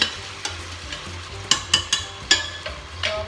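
Chicken kaldereta stirred and sautéed in a pot, repeated sharp metallic scrapes and taps of a spoon against the pan over a low steady sizzle, close and distinct.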